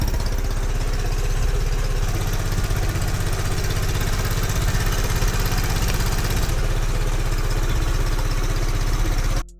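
A Piaggio Vespa LX scooter with a swapped-in 4-valve engine, originally 2-valve, runs steadily near at hand with a loud, even putter and idle clatter that holds throughout and cuts off at the very end.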